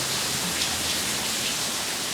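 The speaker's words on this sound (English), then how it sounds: "it's actually like wet because it's raining, of course" Steady outdoor rain falls in a continuous, even hiss, close and fairly loud, with no talk or other sounds over it.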